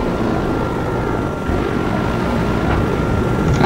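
Helicopter in the video game Battlefield 4, a steady rotor drone held loud and close throughout, with no break and no voices over it.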